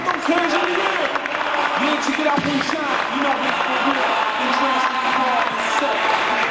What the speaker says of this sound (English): Let's give a round of applause to Frank, Ian, Andrew, Matt and Brian